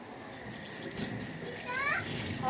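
Water runs softly and steadily from a tap during plate washing, faint and hissy, with children's voices nearby.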